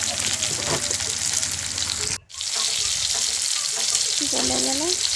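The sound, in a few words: tomatoes frying and being stirred in pan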